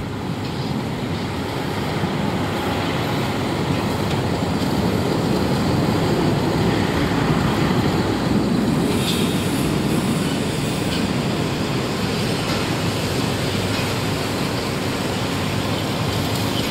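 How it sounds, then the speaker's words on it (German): Diesel narrow-gauge train hauled by a Romanian-built L45H locomotive on the Zittau line, a steady rumbling engine drone with rolling rail noise, sustained and fairly loud throughout. "auch den Dieselzug mit seiner in Rumänien gefertigten Lok vom Typ L45H zu erleben."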